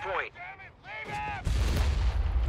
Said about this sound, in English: Another whiz bang coming out for Ares.